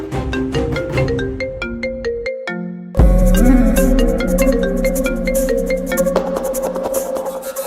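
A mobile phone plays its ringtone unanswered, a loud looping electronic melody of bright notes that shifts into a fuller, bass-heavy tune partway through, with no one speaking.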